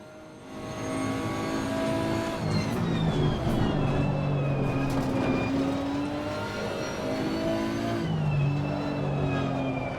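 Race car engine in Assetto Corsa Competizione on the Nürburgring GT circuit, revving hard with rising and falling gear pitches, a brief lift off the throttle and renewed acceleration, heard from close up with no talk.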